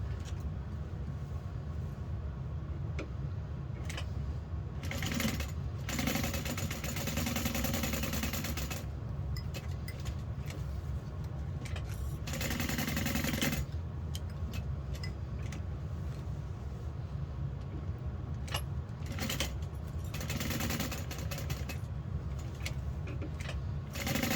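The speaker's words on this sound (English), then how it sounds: "we're going to sew around the raw edges, but we're going to leave a turning hole opening" A sewing machine stitches around the raw edges of a backpack slip pocket, running in a steady mechanical whir that rises in louder bursts and settles between them, close and continuous with no talk.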